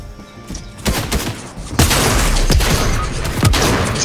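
Rapid bursts of video-game gunfire crackle through a chaotic firefight, growing louder and denser after the first couple of seconds with repeated sharp shots layered over a steady din.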